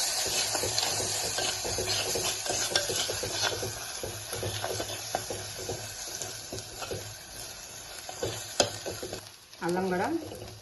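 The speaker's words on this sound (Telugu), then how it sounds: "అల్లం కూడా చక్కగా వేగిపోయిందండి, దాంట్లో ఫ్రై అయింది, పచ్చివాసన పోయేలాగా" Ginger and turmeric frying in a pan for a goat head broth, a steady close sizzle with scraping stir strokes throughout, ending in a brief louder clatter.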